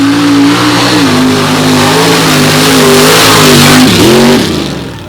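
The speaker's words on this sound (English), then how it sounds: "Billy Stevens rocking and rolling in the Ford Ranger of 4516" A loud Ford Ranger unlimited-class race truck engine revving hard, its pitch rising and holding, dipping briefly, then surging again before fading at the end.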